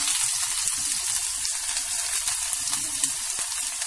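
Chopped onion and green chilies dropped into hot oil with cumin seeds, giving a steady, close, loud sizzle with crackling pops throughout and no voices.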